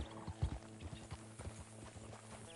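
Horses walking with hooves clip-clopping in an uneven rhythm, a few sharper strikes standing out over a steady background hum, no voices.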